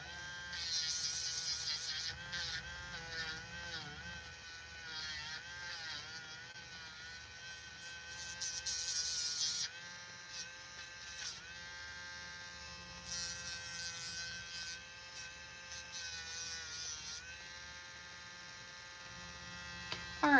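An electric nail drill files nails, with a steady high-pitched whine that wavers in pitch as pressure changes, continuous and close throughout.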